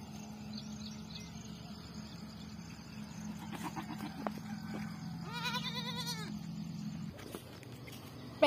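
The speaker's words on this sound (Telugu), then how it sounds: "అదిగోండి ఫ్రెండ్స్ గొర్రె కనిపిస్తున్నాయి కదా" Sheep bleat in a pen, a couple of drawn-out wavering calls rising over a low steady hum, with faint talk nearby.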